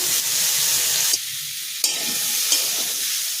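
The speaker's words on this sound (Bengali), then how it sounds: "ডাঁটাগুলোকে ভেজে নিয়েছি, এই হালকা করে ভাজবো।" Drumstick (sajna) stalks frying in oil for Bengali sukto give a steady bright sizzle, broken by a few soft stirring clacks in the pan.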